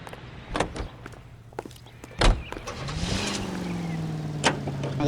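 Car in the video game L.A. Noire, with door clunks and sharp knocks before the engine starts and settles into a steady hum that rises slightly, close and moderately loud, with no talking.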